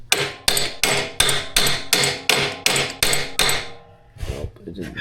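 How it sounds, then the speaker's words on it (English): Hammer striking a stuck part on a Yamaha Terrapro PTO mower: nine heavy, evenly spaced metallic blows close by, followed by a short pause and a softer knock at the end. "Don't you want to hammer it down?"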